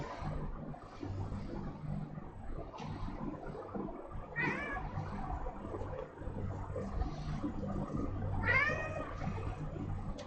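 A cat meows twice in a home kitchen, the calls rising out of a steady low rumble and broadband background noise, moderately near and not very loud.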